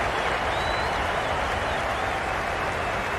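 A stadium crowd at a Cricket 22 Australia vs England T20 World Cup final applauds, producing steady, dense clapping that holds loud and unbroken from start to finish.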